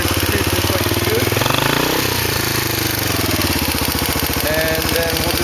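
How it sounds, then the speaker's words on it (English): ATV engine with a repaired centrifugal clutch cruising in first gear after a touch of throttle, a close, steady putter with a rising then settling engine note, running alone without talk. "So we're in first gear now. Give it a little bit of gas, and it starts to cruise just like it should."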